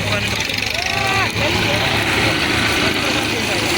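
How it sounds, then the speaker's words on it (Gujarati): A loaded tractor rumbles in close and loud, its engine noise steady and dense while people talk over it. "આ બીજું ટ્રેક્ટર ભરીને આવ્યું"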